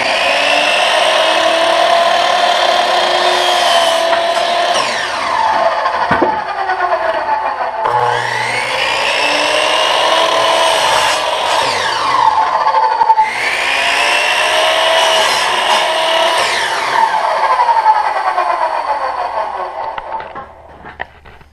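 A power saw cuts wooden trim for a chicken house on a homestead, whining loudly through three long sustained cuts with brief pauses between them, alone with no talk.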